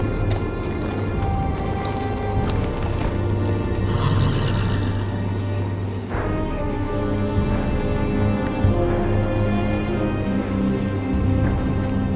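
Horse hooves clip-clop with an occasional whinny in a Game of Thrones video game at the Night's Watch gate of the Wall, sounding steadily over a loud, dense game ambience and music bed for the whole stretch.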